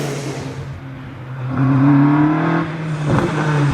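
A race car climbs the Prescott hillclimb course, its engine note rising as it accelerates, loud and fairly close, with a sharp gear change or burst near the end and no talk over it.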